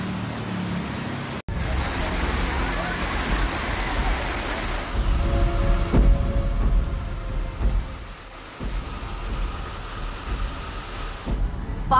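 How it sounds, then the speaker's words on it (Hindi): Fast-flowing floodwater rushes through waterlogged city streets after heavy rain, with vehicles stranded in it. It makes a loud, steady, broad wash of noise with a brief cutout near the start and no talking. "पानी का ये तेज प्रवाह"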